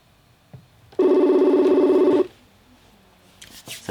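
A telephone ringtone sounds loudly during an outgoing call placed from a bedroom, one sustained ringing burst lasting about a second, followed by quiet and faint movement.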